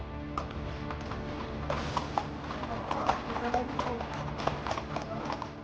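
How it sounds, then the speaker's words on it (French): Horses walked across the stage of a show arena while warming up, their hooves clip-clopping in a steady, fairly close rhythm over a busy background of crowd and arena noise. "On va sur la scène de la Cénie pour marcher le chevaux et les échauffer"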